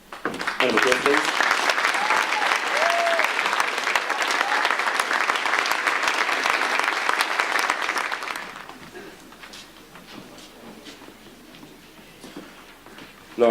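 Loud audience applause at a school certificate of achievement ceremony, dense and sustained for about eight seconds before dropping to scattered clapping and murmuring.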